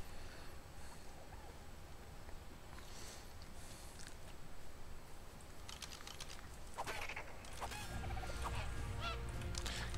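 A bird honks goose-like in the video game ARK: Survival Evolved, several scattered honks over a constant hiss of game ambience, with light clicking like keyboard typing in the background.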